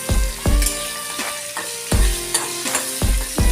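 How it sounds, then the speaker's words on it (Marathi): Chopped onions sizzle in butter and oil for a paneer pasanda and are stirred in regular loud scrapes about every half second over a constant frying hiss, with no voices. "जे आपण कटिंग करून घेतलेले आहेत कांदे ते घालायचे आणि ते आपण छान हलवून घ्यायचे बटर आणि तेलामध्ये"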